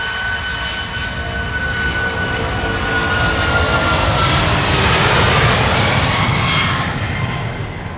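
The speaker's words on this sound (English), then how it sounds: "It's rotating. It's off the ground." Airplane taking off on the Polderbaan runway at Amsterdam Schiphol, a loud sustained engine roar that swells gradually as the aircraft passes nearest, then begins to ease, with no voices over it.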